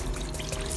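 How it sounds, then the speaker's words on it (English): Water runs gently from a garden hose with the pressure nozzle removed, a soft, steady low splash and trickle heard close up for a brief moment. "I take the pressure nozzle off the hose, so the water is coming out relatively easy"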